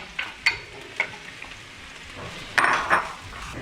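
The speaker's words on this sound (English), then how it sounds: "we will fry the onions till they caramelize and turn light brown" Onions frying in a pan for Goan prawn balchao, a low background sizzle broken by sharp clinks and scrapes of a spoon against the pan, several distinct knocks and a louder stirring burst near the end.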